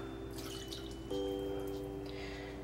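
Water poured from a measuring cup into a bowl of brownie mix, a soft close trickle and dribble with faint tonal ringing, quiet and alone.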